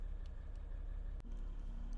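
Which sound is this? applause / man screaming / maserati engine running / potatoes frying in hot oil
maserati engine running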